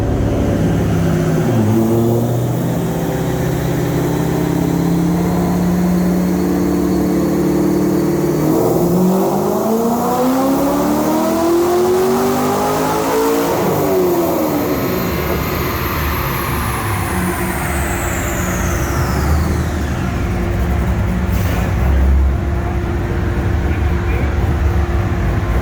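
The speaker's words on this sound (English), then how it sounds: "we're gonna do a first dyno run right now and see how it goes" A Corvette Z06 engine roars continuously on a dyno run, revving up through rising sweeps, dropping back and climbing again, loud and sustained with mechanical drone throughout.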